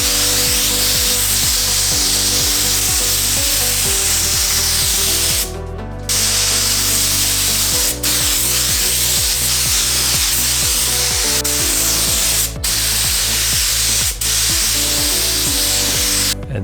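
A spray gun lays a second coat of Porsche green paint on a car body, a loud steady hissing spray under a compressor's rhythmic pulsing thumps, with a few brief pauses and no speech.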